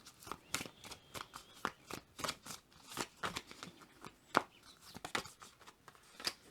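Tarot cards being shuffled by hand, a quiet, close series of crisp riffling slaps and flicks in an irregular rapid rhythm.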